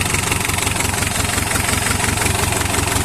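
An Isuzu 4BA1 diesel engine idles steadily and loudly up close, with a continuous rumbling chug and a fine rapid knock running evenly through the whole stretch, with no voices over it.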